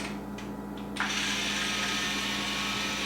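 A loud, steady mechanical whir kicks in about a second in and keeps grinding continuously, like a small motor straining nearby, from a motorized toy robot moving.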